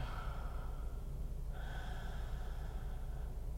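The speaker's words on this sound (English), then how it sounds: "Sounds like you have kind of a breathing problem there." Heavy snorting and gasping breaths from a character in a comedy sketch, a few ragged close-up inhalations and exhalations at low volume with no talking.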